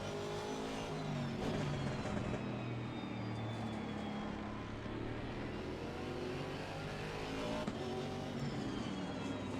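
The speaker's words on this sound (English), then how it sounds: "I'm having problems hearing over the roar of this engine." A GT race car engine in the racing game Assetto Corsa Competizione roars continuously, its pitch rising and falling with gear shifts and revving, loud and steady throughout with no voices.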